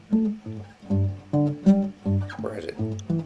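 Guitar strings muted by a piece of rubber foam beneath them, giving short, thumpy plucked notes with quick decay in a steady, even rhythm, close and clear, with a faint noisy scrape partway through.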